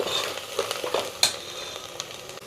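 Fresh coriander goes into hot oil in a pan while making mutton boti curry. A close crackling sizzle carries scattered scraping and stirring knocks, with one sharper clack partway through.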